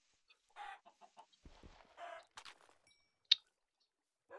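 Chickens clucking in Minecraft: a run of short, soft clucks and squawks at close range, with one sharp higher chirp near the end, no talk.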